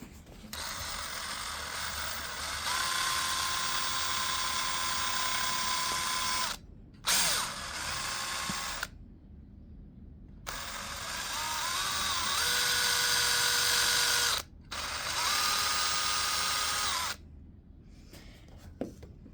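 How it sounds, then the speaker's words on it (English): A power drill whines loudly in long sustained runs while drilling holes in a rubber RC car tire (Baja 5B), pitch shifting under load, with short pauses and brief ratcheting clicks between bursts. "Now that we're done drilling in all the holes"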